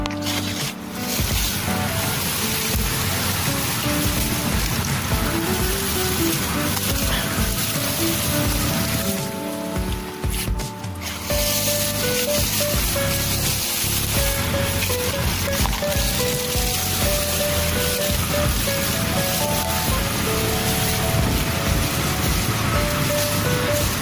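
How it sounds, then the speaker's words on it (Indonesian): Strong wind roars steadily outdoors beside a lantana shrub being eyed for bonsai, a loud, unbroken rushing that dips briefly once before returning at full force. "Di sini anginnya cukup kencang."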